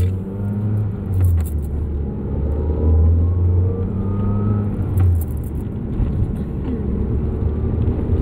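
A car driving along a road in the early hours, with a steady low engine rumble and tyre hum that runs throughout at close range, unchanging and without talk.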